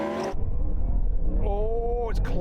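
A Porsche Taycan Turbo GT, a Ferrari SF90 and a Yamaha R1M launch off the line in a drag race, with a heavy low rumble running throughout under loud, excited voices.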